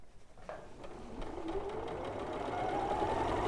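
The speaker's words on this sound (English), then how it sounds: "so while Lucy's sewing that together" Sewing machine stitching fleece fabric together, a steady fast mechanical whirr that starts after a brief pause and rises slightly in pitch and speed, running continuously and close.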